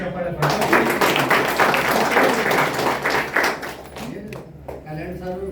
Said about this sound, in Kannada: ಸೊ ಅವ್ರಿಗೆ ಜೋರು ಚಪ್ಪಾಳೆ